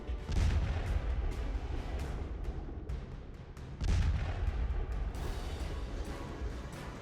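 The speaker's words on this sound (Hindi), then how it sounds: "रूसी सेना की तोपें दनादन आग के गोले उगल रही हैं।" Russian army artillery cannons fire shells near Dnipropetrovsk in Ukraine: two heavy, deep booms land a few seconds apart, each followed by a long rumbling roll of distant fire, with no voices.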